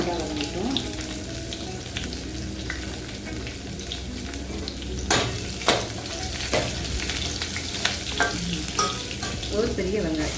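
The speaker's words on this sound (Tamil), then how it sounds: "தட்டி வச்ச பூண்டு நல்லா வதங்கிட்டோம்." Crushed garlic sautés in a pan for a Tamil drumstick-leaf sambar, a steady sizzle broken by several sharp scraping stirs in the second half, close and fairly loud with no talking.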